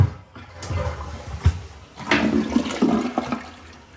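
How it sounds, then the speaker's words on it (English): A household toilet flushes in a house interior, a full rushing swirl of water with a sharp handle clunk near the start, then a gurgling surge that fades as the bowl refills, heard close with no talking. "Toilet seemed to work okay."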